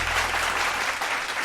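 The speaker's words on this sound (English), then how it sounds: "Applause, thank you." A canned applause effect plays on a live stream, a steady, even burst of crowd clapping and cheering at moderate volume that runs without any voice over it.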